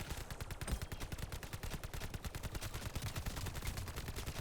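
An Owen gun fires in rapid continuous bursts in Call of Duty Vanguard Zombies, a fast sharp rattle of automatic shots heard fairly faintly with no talk over it.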